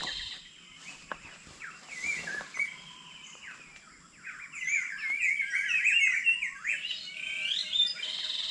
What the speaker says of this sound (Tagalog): Yan po yung ibon nagsasalita.